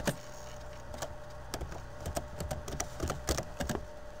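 Keyboard typing while searching for stock images, a run of sharp irregular key clicks spread through the clip over a faint steady hum, close and moderately quiet, with no talking.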